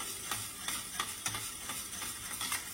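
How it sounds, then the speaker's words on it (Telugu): Hot tempering (tadka) poured into yogurt for perugu vada gives a soft sizzle, with repeated light scraping and stirring taps against the vessel, fairly quiet and close. "తాలింపు పెట్టేసుకున్నాం పెరుగులోకి."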